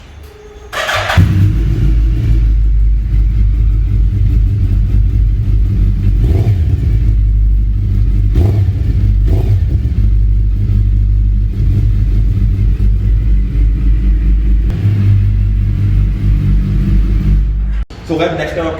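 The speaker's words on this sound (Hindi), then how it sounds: "अच्छा आपका एग्जॉस्ट साउंड सुना है?" A Harley-Davidson Iron motorcycle's exhaust rumbles loud and close, revving in a deep, steady growl that barely lets up for the whole stretch before cutting off near the end.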